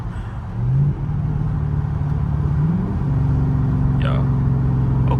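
A Camaro SS engine drones steadily, its pitch climbing and dropping as it revs and shifts through gears, loud and close from inside the car.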